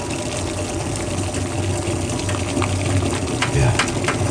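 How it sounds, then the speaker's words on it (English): Steady bubbling and churning of water boiling in a pot, a continuous rumbling hiss with a slight surge near the end. "the water is boiling, and that's what we need."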